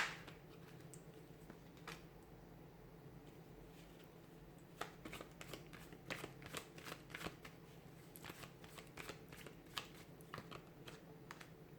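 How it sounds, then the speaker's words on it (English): A deck of tarot cards being shuffled close by, with a fast run of crisp riffling snaps and flutters in a quiet room. "give the cards a shuffle"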